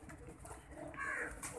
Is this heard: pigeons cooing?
yes